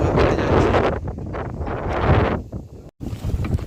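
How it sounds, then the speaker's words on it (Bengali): A generator-powered passenger boat crosses the flooded Mayurakshi River, its steady engine drone mixed with heavy wind buffeting the microphone, with a brief dropout near the end. "এই জেনারেটার চালিত নৌকা যাত্রীরা সব এই পার থেকে ওই পারে ওঠে"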